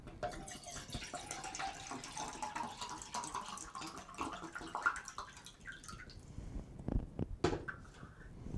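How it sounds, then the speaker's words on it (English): Water running from a kitchen tap to fill a cup, a steady splashing flow that thins out, followed by a few clunks and knocks of the cup and cupboard, close and quiet. "Oh, I'm out of water. Let me fill up my cup."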